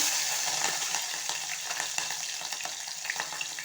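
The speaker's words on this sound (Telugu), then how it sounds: "ఆయిల్ అయితే వేడెక్కింది జీలకర్ర అలాగే పచ్చిమిర్చి" Cumin seeds and green chilies sputter in hot oil for a capsicum-tomato curry, giving a bright, crackling sizzle with light stirring, close and continuous, with no voices.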